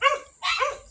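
Two close, loud dog barks in quick succession, each a short bright yelp with a brief pause between them, heard at a street food stop with no talk over them.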